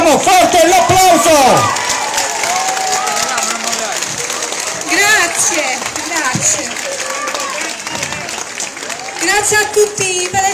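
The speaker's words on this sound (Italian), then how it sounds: "forte l'applauso!" Political rally crowd in Puglia awaiting Giuseppe Conte, loud applause and cheering with shouting voices and a speaker calling out over the noise, surging at the start and again near the end.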